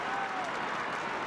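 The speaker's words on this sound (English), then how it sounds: "just listen to the cheer" Crowd at a Gaelic football match between Kerry and Dublin cheering a veteran player's run, a brief dense roar and clapping, broad and steady, heard from within a large stadium.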